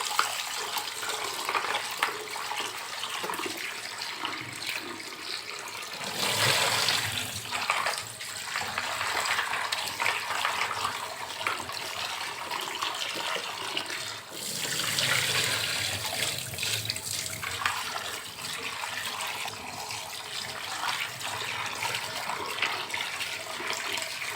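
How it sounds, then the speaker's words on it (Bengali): Tangra fish being rinsed clean under running water, a steady broadband rush of flowing water with louder surges around the middle, continuous and close, with no talking. "ট্যাংরা মাছগুলোকে খুব ভালো করে পরিষ্কার করে ধুয়ে নিচ্ছি"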